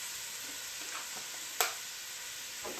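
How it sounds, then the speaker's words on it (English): Onions and garlic frying in a pot for a roasted corn soup, giving a faint steady sizzle with a few soft stirring scrapes and one sharp brief clatter partway through. "So we're going to add to this our onions"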